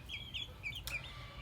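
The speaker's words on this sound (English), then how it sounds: "And I put my 6 chicks in there." Young chicks in a coop give soft, high cheeping and clucking calls, a few short chirps in quick succession, faint and nearby.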